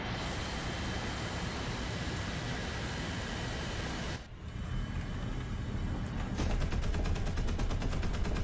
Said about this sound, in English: the new sounds for the cannons also apply to the Soviets